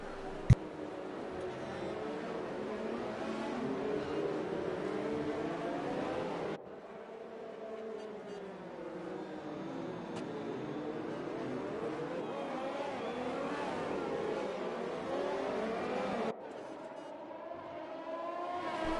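F1 cars in a racing video game roar at the restart after the safety car at Monaco, a dense, continuous engine howl with shifting pitch sweeps and a brief drop mid-way.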